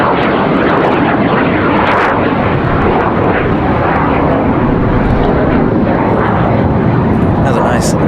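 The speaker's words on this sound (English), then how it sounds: "Has a nice loud exec jet departure." A business jet departs loudly from Raleigh-Durham International Airport, its engine roar filling the scene continuously from start to end.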